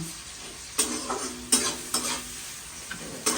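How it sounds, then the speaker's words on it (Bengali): Eggplant slices frying with poppy seeds in a pan, producing a soft continuous sizzle broken by several bright scraping strokes of a spatula, close and without talk. "বেগুন ভাজাটা আজকে পোস্ত দিয়ে ভাজছি"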